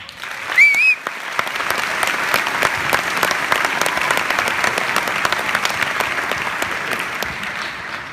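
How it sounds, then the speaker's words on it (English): Sustained audience applause fills a university commencement ceremony at UW–Eau Claire in 2014, a dense steady wash of many hands clapping for about eight seconds, with a brief whistle near the start. "let us take a moment and collectively acknowledge all who have supported us, including those that are not present today, with a round of applause"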